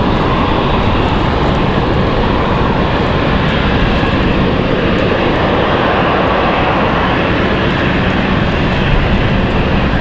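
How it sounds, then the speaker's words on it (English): A Copa Airlines Boeing 737 Max 9 on final approach at Raleigh-Durham International, arriving from Panama City: a steady, loud broadband jet roar that holds evenly throughout with no voices. "Got Copa 466 on final. They're gonna come in their Max 9 this afternoon."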